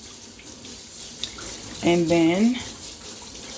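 Cool water running from a kitchen tap over a watermelon being rinsed, a steady broadband splash, with a short spoken phrase breaking in partway through.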